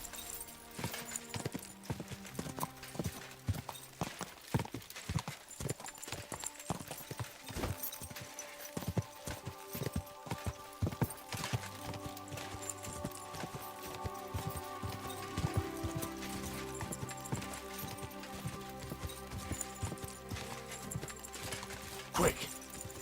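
Horse hooves pound at a gallop in Kingdom Come: Deliverance II, a fast, steady run of close thudding beats under game sounds and occasional talk.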